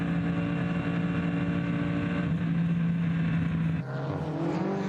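A GT race car at full throttle on the Nürburgring during 24h qualifier racing, driven by Luca Stolz: a steady, droning engine roar heard from a distance, holding one pitch before dropping briefly near the end.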